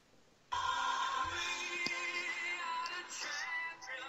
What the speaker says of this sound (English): Yeah, that's We Are the Champions. That's on Neil's phone, not mine.